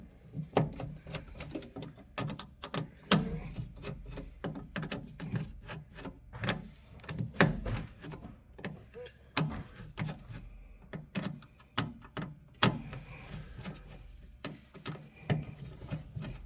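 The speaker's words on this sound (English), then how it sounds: "we're going to loosen these 7 Phillips here. That's a couple turns each." Seven Phillips screws are loosened a couple of turns each on an XPC19 PRO motherboard, with quiet, close, repeated scraping and ticking of a screwdriver working through the screws one after another.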